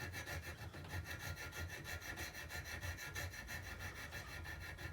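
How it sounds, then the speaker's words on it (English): A metal file is draw-filed across a part of a model locomotive, a quiet, steady rasping with fast regular rubbing strokes running continuously, no talking. "the way this is going to get fixed is by draw filing"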